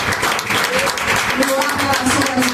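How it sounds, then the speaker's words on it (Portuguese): A church congregation claps together in a steady, continuous wash, with a voice and faint tonal sounds carrying over the applause throughout. "Eu queria que você dá uma salva de palmas para Ele"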